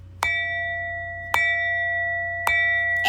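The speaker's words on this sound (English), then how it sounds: "Let me ring the bell for you." A bell rings three times, each a sharp struck tone that rings on with a sustained, bright resonance, evenly spaced about a second apart, close and clear over a low hum.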